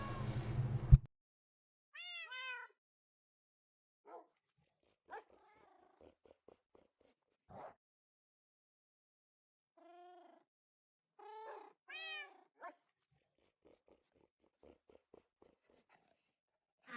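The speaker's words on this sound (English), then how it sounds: "Continuous meowing." A cat meows repeatedly, with short, fairly faint calls in irregular bursts separated by quiet gaps, opening with a brief louder noise.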